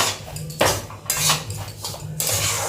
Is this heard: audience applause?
no